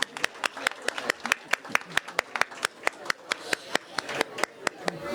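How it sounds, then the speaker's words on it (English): Applause from an audience at a community ceremony, a group clapping in a fast, uneven patter that holds steady throughout, with some faint voices underneath. "Applause, everyone, applause."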